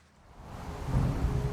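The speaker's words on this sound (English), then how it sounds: "this is what causes the waterfall to be created and then to loop" Rushing water from a looping waterfall in the puzzle game Manifold Garden, a broad steady roar swelling from quiet to full over the moment, with no voices.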